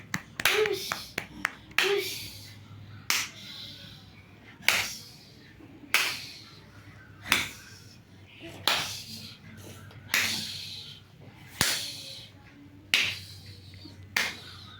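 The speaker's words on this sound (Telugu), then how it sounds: "చిన్నగా క్లాప్స్ కొట్టి" A child claps softly at home, giving about a dozen separate sharp claps spaced a second or so apart, some in quick pairs, with quiet adult talk between them.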